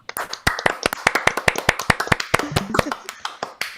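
Several people clap in a quick, uneven burst of sharp hand claps, close and fairly loud. The claps run steadily for a few seconds with no one talking over them.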